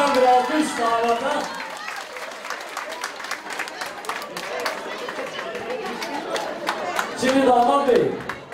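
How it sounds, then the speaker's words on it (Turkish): Applause for the groom at a wedding ceremony. A crowd claps and chatters up close, and voices talk over the clapping, which swells again near the end. "Güzel bir alkış damata."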